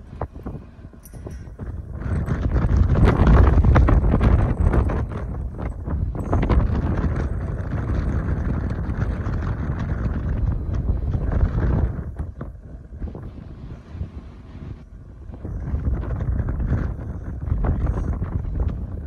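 Strong wind buffeting the microphone in loud, roaring gusts that swell and ease, with a brief lull before rising again, at a tower crane construction site in Berkeley, California.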